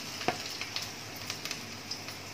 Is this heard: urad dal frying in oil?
yes